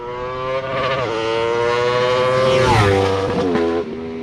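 An Aprilia RSV4 motorcycle on its stock exhaust revs while stationary, loud and close, the engine note climbing and dropping through several throttle blips.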